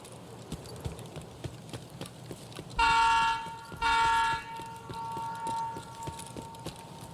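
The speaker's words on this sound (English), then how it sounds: "Train's loud." A train in the shooter game Escape from Tarkov sounds its horn in two loud blasts over a faint rumble of the passing train, with scattered background clicks and no talk.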